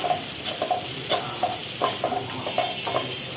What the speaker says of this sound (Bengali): একটু নাড়াচাড়া দিয়ে দিই, মশলাটা একটু ভাজা হোক হালকা হালকা